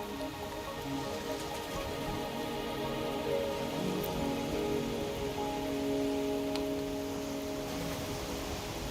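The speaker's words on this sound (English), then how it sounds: "Are you trapped here by the rain?" Steady rain pours down across a scene in the Wuthering Waves video game, a dense continuous patter with an even hiss throughout, no voices.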